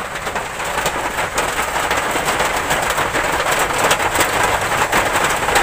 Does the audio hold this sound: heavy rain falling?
yes